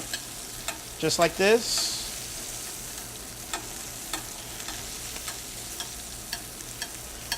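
A steak filet sizzling in a pan as butter with herbs and garlic is spooned over it, with a louder burst of crackling early on, then a quieter steady sizzle with faint ticks under a few spoken words.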